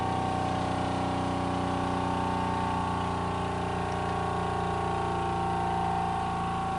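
A Mangar bathing cushion fills with air from its pump, giving a steady, close mechanical hum that runs unbroken throughout.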